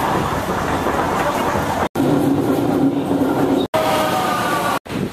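A metro train rumbles along with a loud, steady roar and rattle, heard from inside, with a few abrupt cuts in the sound.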